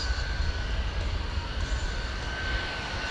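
An F-22 Raptor fighter jet taxis at an air show at MCAS Cherry Point, its engines giving a steady loud rumbling roar with a constant whine, unbroken for a few seconds.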